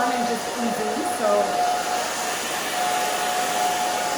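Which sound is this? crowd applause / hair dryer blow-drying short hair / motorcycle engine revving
hair dryer blow-drying short hair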